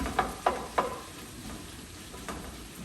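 Garlic frying in ghee over high heat, a quiet steady sizzle with three sharp pops or utensil taps near the start and another later on.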